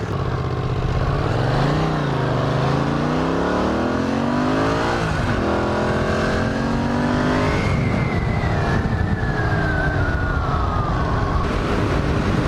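A Honda CX500 and a Kawasaki LTD440 motorcycle on the road on a cold day, engines droning loud and close with rising and falling pitch as they accelerate and shift, continuous throughout.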